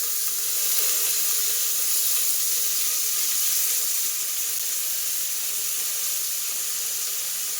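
Chopped onions sizzling with curry leaves in a hot pan for ridge gourd gojju, a steady bright hiss and crackle that holds evenly throughout, close and unbroken, with no voices.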